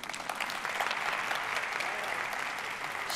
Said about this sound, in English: an applause for her, please